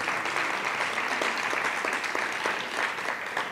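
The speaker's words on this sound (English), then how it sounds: "I'd like a round of applause for all of the candidates" An audience at a school board of education candidate forum applauds, a dense steady clapping from a crowd in a hall throughout, moderately loud.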